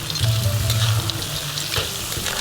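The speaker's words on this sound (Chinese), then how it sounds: "我们把花螺倒入进去，也是大火的翻炒" Whelks being stir-fried in sauce in a wok over high heat, a loud, steady sizzle with tossing and scraping sounds and no speech.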